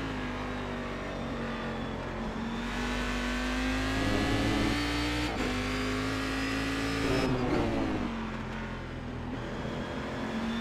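Sportscar-challenge race car pulling out of the pit lane at Donington, its engine loud and close, pitch climbing through gears with brief dips at shifts around mid-clip; continuous drone without speech.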